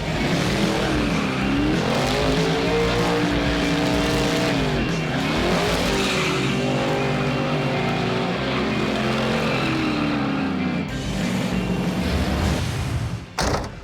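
A Chevrolet Camaro spins donuts on a track, its engine revving and rising and falling in pitch while the tires squeal continuously and loudly, close by, with no talking.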